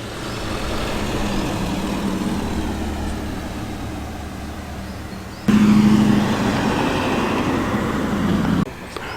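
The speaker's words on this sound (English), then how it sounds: "A Sunbeam coming in now." A classic 1965 Sunbeam pulls into the Weston Park classic car show, a steady engine rumble that grows louder and closer partway through, with a low idling hum before it cuts off near the end.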